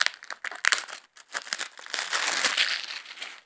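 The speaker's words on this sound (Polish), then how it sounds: "Bardzo szybko otworzę folię." Plastic foil wrap is torn and peeled off a DVD case, with close, sharp crinkling in quick irregular bursts and then a longer stretch of crackling.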